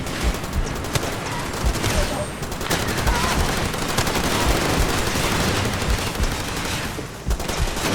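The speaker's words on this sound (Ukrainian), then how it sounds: "А, вони ще в нас стріляють." Rapid bursts of gunfire in the video game Far Cry 2 crackle almost continuously, overlapping volleys of shots dense and loud throughout, with a brief lull near the end.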